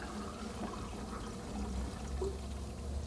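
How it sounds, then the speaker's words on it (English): Water rushing steadily and loudly down a saltwater or freshwater aquarium's overflow drain, a continuous close gurgling wash with no pauses. "The water could be going into your second drain, which will also run loud."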